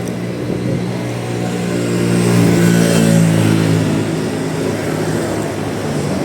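Fast tricycles and other traffic pass along a street, one engine swelling loudly as it goes by close up before fading back into a continuous road rumble.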